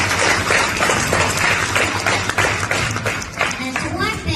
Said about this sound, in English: let's give our teachers the loudest clap ever because they deserve it